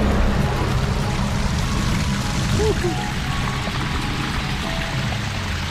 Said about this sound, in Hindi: इतना बड़ा पहाड़ है और इसके बीच में से पानी निकल रहा है